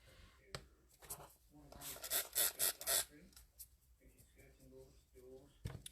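A brush works paint across matte-gel-primed paper, giving soft scratchy strokes in short bursts with a louder run in the middle, while a voice talks quietly around it.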